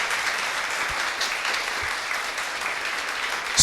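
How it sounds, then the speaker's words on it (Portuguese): A church congregation gives steady, even applause that fills the room at moderate loudness, with no talking over it. "Vamos aplaudir Jesus, querido."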